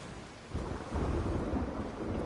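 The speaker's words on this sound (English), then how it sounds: "that thunder sound real good" Thunder rumbles through a rainstorm in the video game The Last of Us Part II, a deep roll swelling midway and sustained over the steady hiss of falling rain, with no voices.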